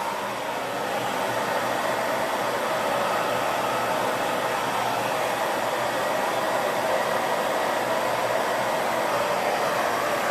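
A hair dryer with a diffuser attachment drying curly hair, blowing in a loud, constant, close-up whoosh of air that holds steady throughout with no voices.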